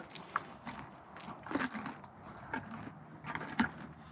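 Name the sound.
horse biting and chewing carrots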